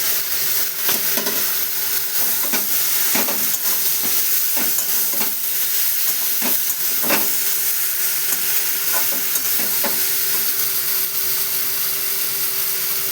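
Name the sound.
frying pointed gourd and shrimp in a pan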